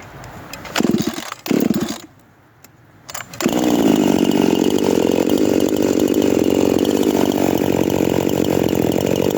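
Husqvarna 350 and 346 chainsaws being restarted in snowy cold, with short pull-start sputters and a brief pause before one engine catches and runs loud and steady nearby.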